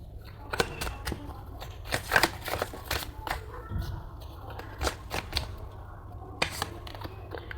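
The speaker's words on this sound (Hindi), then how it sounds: "दो कार्ड्स और निकालते हैं" Tarot cards drawn from a deck during a reading, with soft crisp card flicks, slides and rustles coming in irregular bursts, close and quiet, and a voice faintly present at times.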